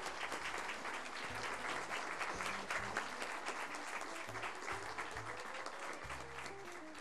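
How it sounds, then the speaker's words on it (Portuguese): Audience at a formal civic session of a municipal chamber applauding as a university rector is welcomed; sustained, even applause from a large room throughout, fairly distant and soft, with a low hum underneath. "Com nossos aplausos, cumprimentos."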